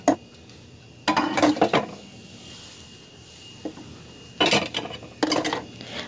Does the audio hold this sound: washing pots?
yes